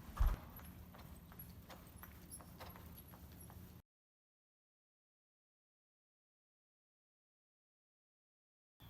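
Rhythmic hoof clip-clop of a horse named Bits being trotted under a rider outdoors near a house under construction, steady and fairly close for about four seconds before dropping to silence.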